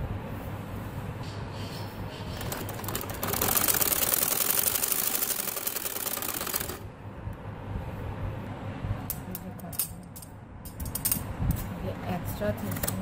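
A sewing machine runs in a steady whirring burst while stitching lace and piping onto a ban-gala neckline, starting after a few seconds and stopping abruptly, followed by quieter handling noises.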